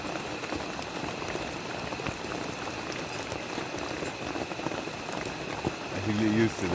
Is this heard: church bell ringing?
no